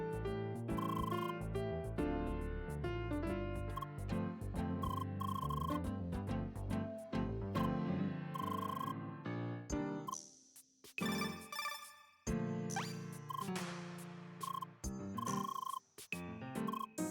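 A telephone rings in the video game CrossCode as a long run of electronic ringtone tones with a musical backing, then breaks into short chirping bursts separated by gaps. No one talks.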